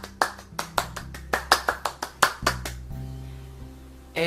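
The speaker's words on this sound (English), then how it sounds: "Give yourself a round of applause." Roughly a dozen sharp, separate hand claps from one person at an uneven pace, close and loud, trailing off into quiet with a clunk at the end.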